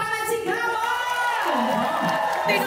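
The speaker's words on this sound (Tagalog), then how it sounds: "Isa mo lang mga palakpakan at sigawan!" A comedy show audience in Germany claps and shouts together, a loud, sustained wash of applause and whoops with a voice ringing over the crowd.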